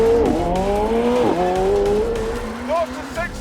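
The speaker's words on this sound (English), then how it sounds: "Left foot on brake. Push launch. Full throttle. Boost building." A high-performance car launches at full throttle with boost built up, its engine roaring and rising in pitch through the gears, with brief tire squeal as it pulls away and voices talking over it.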